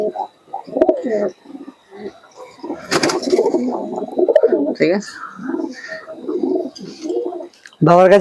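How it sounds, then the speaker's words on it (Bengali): Pigeons of Andra, Tippler and Giribaj breeds at a pigeon seller's in Nabadwip coo in repeated soft, throaty bursts close by, mixed in with people talking. "একটা মনে হচ্ছে গিরিবাজ কবুতর আছে"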